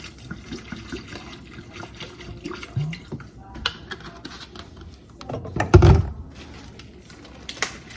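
Liquid pours and splashes in brief bursts, with one louder splash near the middle, as vinegar goes into homemade Filipino pickling in a backyard garden setting.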